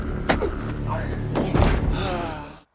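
A door is forced open in a tense crime drama scene, with heavy slams and thuds landing near and loud at about 0.3, 1.4 and 1.6 seconds over a dense, noisy background with faint voices.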